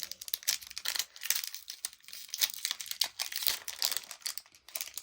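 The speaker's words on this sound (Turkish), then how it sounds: "bunun poşetini açabiliyoruz elle" Close crinkling and crackling of a plastic package wrapper being opened by hand, in rapid irregular bursts with no talking.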